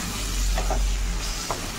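Dried fish (sutki mach) sizzles in a frying pan as it is stirred: a steady, close frying hiss with a few brief scraping accents from the spoon.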